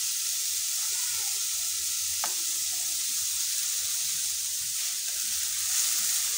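Chopped green chillies frying in a pan, a steady soft hiss of sizzling oil with one brief clink partway through, fairly even and close, no speech.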